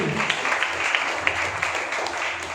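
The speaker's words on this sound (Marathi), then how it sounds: "जोरदार टाळ्या राजनंदिनीसाठी." An audience applauds a student at an SSC results ceremony at a coaching class in Barshi, Maharashtra, with steady, vigorous clapping from many hands and a few sharper claps standing out throughout.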